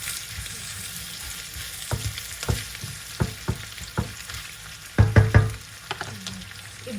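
Pork and anchovies browning in a frying pan, a steady sizzle broken by a series of sharp scraping stirs that bunch together near the end, close up with no talking.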